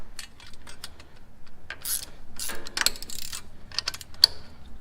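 Bolts on an IH 1086 tractor alternator are tightened with a wrench, giving irregular close ratcheting clicks and metallic ticks in short bursts.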